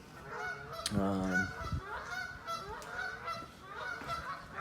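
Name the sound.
geese honking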